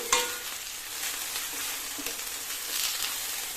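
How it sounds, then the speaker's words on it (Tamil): Bitter gourd fries in hot oil with a steady, close sizzle, broken by scraping stirs of a utensil against the pan, with no voices. "பாகற்காய் ஒரு இருபது நிமிஷமாவது நல்லா சுருங்கி வர்றது மாதிரி நல்லா வறுக்கணுங்க"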